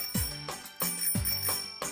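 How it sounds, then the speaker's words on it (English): A bell on a scooter rings in quick, bright strikes, about four clear dings with short decaying tails, close and fairly prominent with no talking over them. "or ring the bell..."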